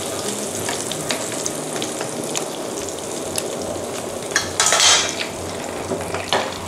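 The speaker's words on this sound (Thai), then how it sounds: "ใช้เวลาในการทอดนี่แค่แป๊บเดียวเท่านั้นนะคะเพราะว่ากุ้งที่เราใช้พันในวันนี้เป็นกุ้งขนาดเล็กนะคะ" Small shrimp wontons deep-frying in hot oil, a steady close crackle and sizzle with occasional louder bubbling bursts and a brief clatter of utensils against the pan.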